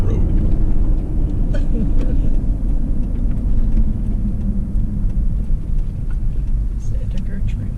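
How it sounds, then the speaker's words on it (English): Inside a 4WD on a country road in Queensland, Australia, a constant low engine and road rumble carries throughout, with voices talking over the drive and a few small knocks from the cabin. "I'm driving along the road here"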